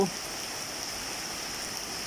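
Heavy rain pours down over a farm field, a steady close hiss of downpour that runs without a break through the short stretch, with no voices.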